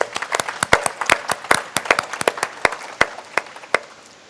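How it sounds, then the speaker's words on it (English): Audience applause at a conference session: a thin scattering of hands clapping, with distinct sharp claps standing out irregularly over a soft background patter, moderately close and tapering toward the end, with no talking. "A round of applause, please,"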